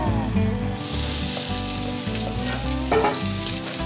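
Carrots, celery, capsicum and basil sweat in a hot pan with a loud, continuous sizzle, with low rhythmic rumbling and occasional clatter from stirring beneath it.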